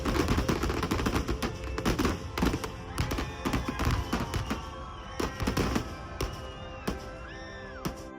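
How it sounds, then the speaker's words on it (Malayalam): Daytime fireworks at Kavassery Pooram festival in Kerala burst in rapid, dense volleys of cracks and booms, with whistling rockets rising between them, loud and continuous; voices murmur faintly underneath. "പാടത്ത് കഴനിദേശം വെടിക്കെട്ട് തുടങ്ങി"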